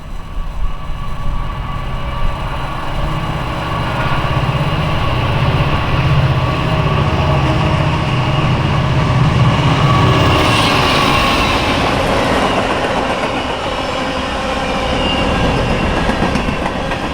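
An old EMD freight locomotive and its train roll past on Norfolk Southern rails, a loud steady rumble of engine and wheels with rhythmic clickety-clack, sustained close by throughout.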